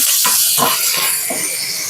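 Curry leaves dropped into hot oil for tempering hiss loudly and continuously, with soft popping crackles running through the close sizzle.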